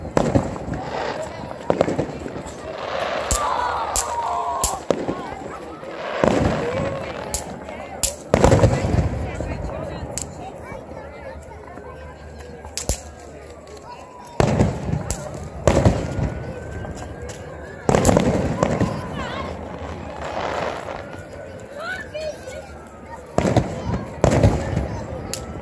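Fourth of July fireworks burst repeatedly in loud, irregular bangs and crackles across a long stretch, some booms close together and others spaced apart, while people talk throughout.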